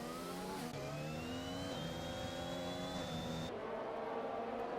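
Several F1 video game racing cars accelerate hard at a safety car restart, layered engine whines rising in pitch together, loud and continuous, with a sharp cut in the high end partway through.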